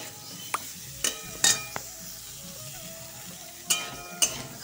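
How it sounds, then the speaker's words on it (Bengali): Cauliflower frying lightly in a pan gives a faint, steady sizzle, broken by several sharp clinks and scrapes of a utensil stirring against the pan, with no talking. "একটুখানি হালকা করে ভেজে নেব ফুলকপিগুলোকে"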